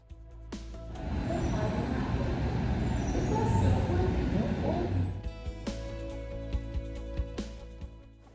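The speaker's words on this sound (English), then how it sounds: "We had to take a tram to get to the B gates, which is in another concourse" An airport tram rolls between concourses, its rumbling running noise building, holding steady and then fading as it slows. Clicks and thuds follow, and voices are heard in the car.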